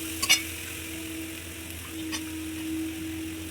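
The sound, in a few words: cabbage frying in pan for pulao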